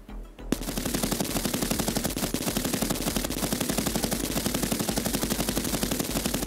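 A drum-fed machine gun firing tracer rounds in Escape From Tarkov lets off one long, rapid, evenly spaced burst of loud shots that starts after a brief quiet moment and continues to the end.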